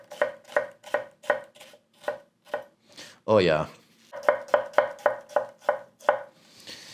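A Japanese petty knife dices an onion on a cutting board in a fast, even run of crisp near chops, broken midway by a brief spoken exclamation, then resuming with a second quick series of chops.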